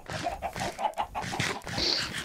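Chickens cluck in short, repeated bursts in the blocky video game Minecraft, steady and fairly close, with one higher squawk near the end.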